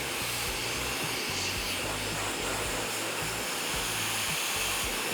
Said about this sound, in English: So it's heating up the barrel of the brush at the same time as drying the hair